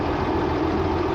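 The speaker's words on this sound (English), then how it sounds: "if I cut this off, that's my engine fan" A semi truck's engine fan running with the engine, a loud steady low roar and whir with a continuous droning hum and no gaps.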